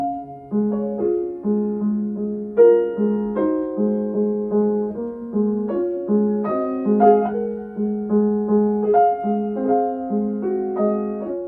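Soft, muted grand piano played with the una corda pedal, Chopin's Raindrop Prelude, a slow, gentle passage with a repeated low note pulsing beneath a melody, notes blending with a mellow, veiled tone.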